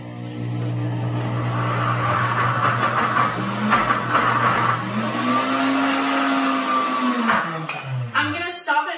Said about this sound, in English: So I'm gonna have my blender speed at 4,